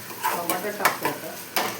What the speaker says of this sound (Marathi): टमाटर टाकतो आता.